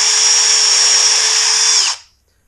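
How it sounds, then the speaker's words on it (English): A DeWalt cordless drill/driver whines at high speed for about two seconds, loud and close, then spins down and stops, leaving silence. "the good thing about this DeWalt is you just take this out, flip it, and you go from drill to drive really easily"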